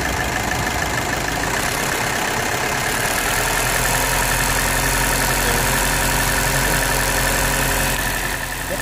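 A 2015 VW Jetta with a Bosch common rail diesel engine runs steadily near the microphone, a loud continuous mechanical hum with a slight rise in pitch as it is revved a little.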